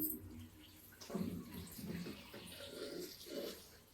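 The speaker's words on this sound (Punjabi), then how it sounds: "ਮੈਂ ਧੋ ਦਵਾਂ ਭਿੰਡੀਆਂ" Okra is rinsed under running tap water in a home kitchen, a faint, steady gush of water with soft splashing from the vegetables and no talk.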